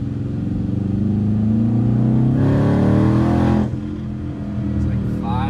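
A Chevrolet Camaro ZL1 engine, built with turbos, revs hard on a dyno in a shop, rising to a loud sustained roar before dropping back to a rumbling idle; voices talk nearby.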